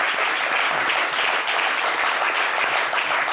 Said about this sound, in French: On applaudit pour toutes ces victimes de body shaming